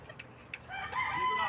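A bantam rooster crows close by in a farmyard, one rising, strained call that starts after a few soft clucks and holds to the end, with no talking.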